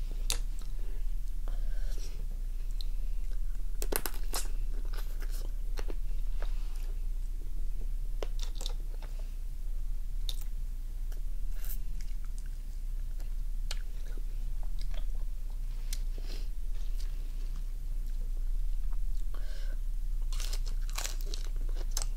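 Raw crab or swimming crab in spicy lime marinade being bitten and chewed up close, with repeated sharp shell crunches and wet chewing spread across the whole stretch, no talking.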